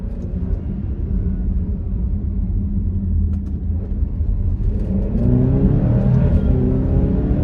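A 2023 Alfa Romeo Stelvio Veloce engine revs and accelerates with a deep, rumbling growl that rises in pitch and grows louder toward the end, with no talking.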